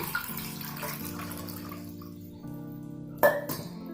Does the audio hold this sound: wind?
no